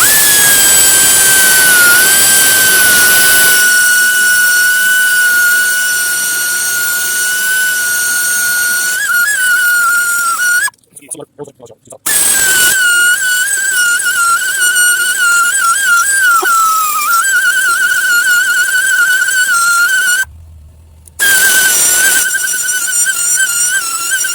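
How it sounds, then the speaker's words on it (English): Die grinder biting into a cast engine block for patch-weld prep, a loud, high whining scream held steady for long stretches, dipping in pitch under load and cut by two brief pauses. "So, I'm gonna get after it with the die grinder. I'm gonna warn you, it's probably loud noises."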